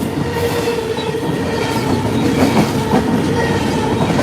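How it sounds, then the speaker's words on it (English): A long freight train of mostly foreign double-stack container cars rolls past at North Chili, New York, a steady close rumble with rhythmic clickety-clack of wheels over rail joints and faint squeals, no voices. "He's a long train today."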